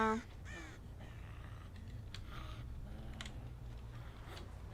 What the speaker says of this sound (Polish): Tu mi kruki latają.